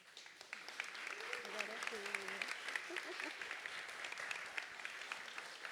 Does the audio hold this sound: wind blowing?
no